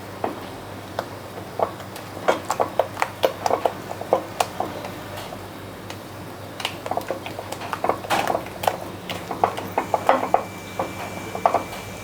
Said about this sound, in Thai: เราก็กวนเขาจนกว่าจะแห้งนะคะ